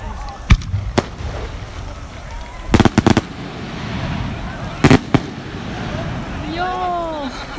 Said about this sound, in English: the samurai are ready, waiting for the fireworks